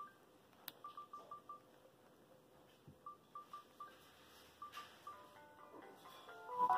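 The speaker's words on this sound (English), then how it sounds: "I want to show you the ringtones on here," Short electronic beep tones from a flip phone ring in rapid bursts of five or six evenly spaced pips, repeating several times close up, ending in a louder chord-like tone.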